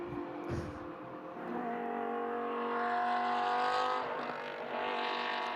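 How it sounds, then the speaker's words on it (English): A Lamborghini Super Trofeo race car at Mugello heard from a distance after passing around a corner, its engine note droning and rising faintly in pitch before easing off, with no voices. "You can tell the Super Trofeo has just gone through. You can still hear it, even though it's well round the corner."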